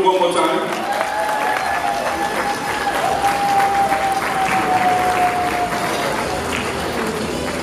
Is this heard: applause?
yes